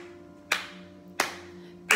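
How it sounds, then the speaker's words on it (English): Three crisp, evenly spaced hand claps ring out over quiet sustained music at an online park music session, each clap a sharp, close snap. "But we'll do a little hand clap."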